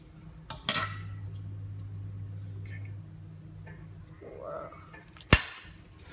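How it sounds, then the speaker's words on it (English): A fork scoops butter and drops it into a pan for pancakes, giving a sharp metallic clink early on, a low steady hum, and one loud bright clack of metal near the end. "now I'm gonna get the fork and put the butter in"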